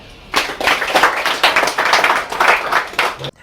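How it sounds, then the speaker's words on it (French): An audience claps steadily and loudly for about three seconds at a meeting of new agents in a hotel hall, the applause rising quickly, holding even and stopping abruptly. "Nous allons nous acclamer"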